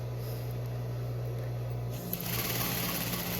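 A sewing machine stitches quilt pieces with a close, steady mechanical whir that picks up speed and intensity partway through, with no talking.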